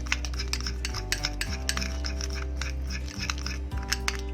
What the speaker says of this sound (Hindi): इसको अच्छे से आपने मिक्स करना है। मेक श्योर करना है कि ये एक जान हो जाए पूरा पेस्ट।